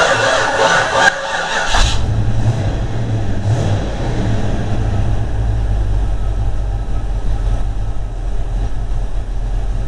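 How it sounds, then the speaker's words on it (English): A 1991 Grand Wagoneer with a freshly installed Promar 360 engine is cranked by a slow starter, with labored turning-over in the opening seconds before the engine catches and settles into a steady, loud low rumble. "Starter's running real slow."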